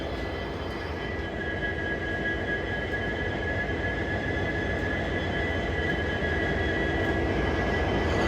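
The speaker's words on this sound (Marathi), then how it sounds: "रेल्वेचं इंजिन आलेलं आहे" A railway locomotive arrives on the Beed to Wadawani section during a high-speed test, making a loud, steady engine roar and drone that holds for the whole stretch.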